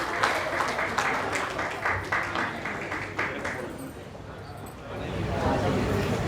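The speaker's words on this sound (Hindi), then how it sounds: "तालियां।" Applause from a crowd at a sangeet celebration, steady clapping for several seconds that thins briefly before swelling again, heard over low background murmur and crowd noise.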